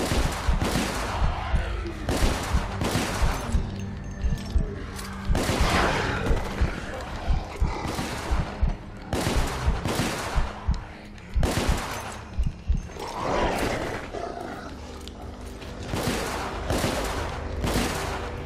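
Gunfire from the video game The Order: 1886: dense bursts of shots and rapid fusillades crackling loudly and continuously throughout, with brief pauses between volleys and occasional booms.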